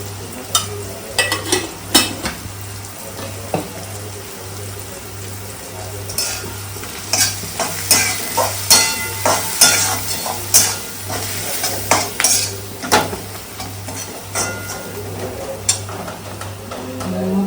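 Onion fries in a pan with turmeric and red chilli powder, a steady sizzle broken by a regular series of scraping stirs from a spoon against the metal, close and fairly loud.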